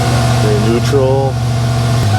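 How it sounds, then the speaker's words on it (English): A cold Ford engine with an AOD automatic transmission idles high in neutral with a steady low hum close by, while someone speaks briefly over it. "idling up because it's cold."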